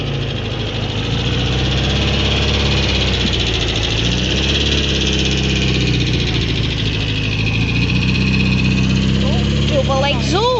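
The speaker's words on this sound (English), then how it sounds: "over here we have a Beetle. It's departing now." A classic Volkswagen Beetle engine idles and pulls away from a classic car meet at a pub, a loud continuous low rumble with steady mechanical drone that stays close throughout.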